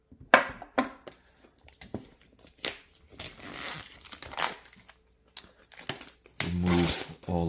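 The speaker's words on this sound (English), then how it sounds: "Let's go ahead and unbox it, cut it open, and go from there." A DJI OM5 smartphone gimbal box is cut open and unwrapped, with bursts of crinkling, tearing plastic and cardboard rustle coming in irregular handling spurts, close by, and a louder crackling stretch near the end.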